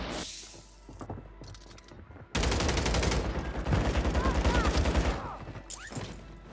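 Rapid automatic gunfire from a gun in the video game Warzone, a dense close burst of shots after a quieter start, with scattered clinks and short shots around it and no speech over it.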